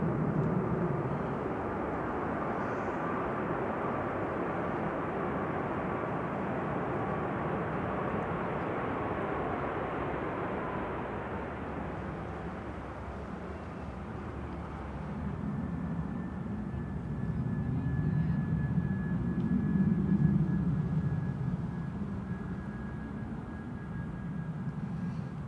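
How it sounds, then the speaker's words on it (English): A Ryanair Boeing 737 MAX 8-200 touches down at Manchester Airport with a sustained, rushing engine roar and a faint whine. The noise dips midway, then swells again with heavy low rumble, and no one speaks. "Smoky touchdown there from Ryanair."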